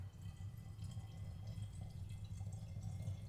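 Distilled water runs into the tank of a Bissell cleaning machine with a faint, continuous trickle and dripping over a low background hum, no voices heard.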